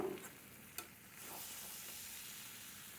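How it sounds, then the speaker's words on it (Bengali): Boiled young jackfruit is sautéed in a pan, giving a faint, steady sizzle after a couple of quick scraping knocks at the start. "যে এঁচোড়টা সেদ্ধ করে রেখেছি ওইটা দিয়ে দিলাম আর ভালো করে এঁচোড় দিয়ে ভালো করে আর একটু কষিয়ে নেব"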